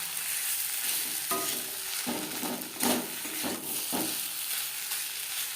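Mashed leftover vegetables cooking in a pan as a veg chop filling, a steady frying hiss with a series of quick scraping stirs and spoon taps, near and without speech.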